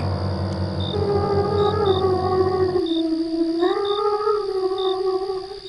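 A girl's high, wavering voice hums eerily, sliding up and down in long, drawn-out notes with a low droning layer beneath early on.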